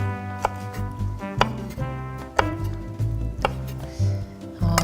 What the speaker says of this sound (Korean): 고사리는요, 좀 적당한 크기로 썰어주세요.